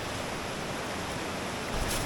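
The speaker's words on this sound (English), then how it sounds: "Basically a 40-foot waterfall that I did not expect, just off the trail" A 40-foot waterfall just off a hiking trail roars as a loud, steady broadband rush, close to the microphone, with a slight swell of wind-like noise near the end.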